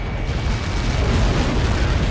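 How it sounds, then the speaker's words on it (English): An explosion on impact gives a loud, sustained, broadband roar that rumbles steadily for about two seconds without a sharp single crack. "How many got caught in that explosion?"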